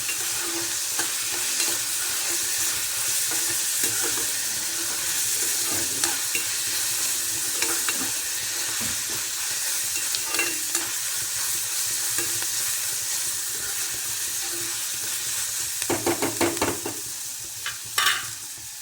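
Moth bean dal and onion roast in hot oil, giving a continuous close sizzle broken by stirring scrapes, with a burst of busier spoon-against-pan clatter near the end.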